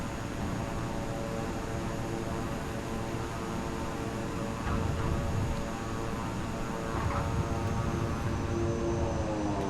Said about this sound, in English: I'm going to put that reverse thrust on.